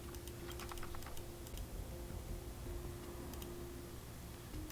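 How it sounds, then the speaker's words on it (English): Repeated light clicks from a control terminal in the Honkai: Star Rail video game, a steady patter of quick taps over a constant low electronic hum with no talking. "clicking sound coming from the control terminal"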